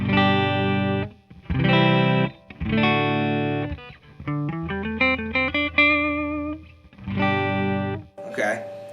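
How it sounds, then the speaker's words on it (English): A clean electric guitar, plugged straight into an amp with no effects, plays a phrase of strummed chords followed by single picked notes, clear and sustained, with a brief scratchy noise at the end. "So just a guitar plugged directly into the amp"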